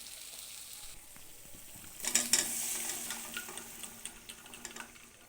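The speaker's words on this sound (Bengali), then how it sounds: "এবার মশলাটা আমরা ভালো করে মটরের সাথে কষিয়ে নেব।" Masala is stir-fried with boiled peas, carrots and potatoes in oil, giving a faint, steady sizzle that swells into louder stirring and scraping partway through, then continues more softly.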